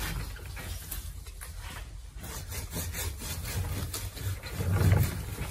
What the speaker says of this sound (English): remove the bark by partly cutting with the saw.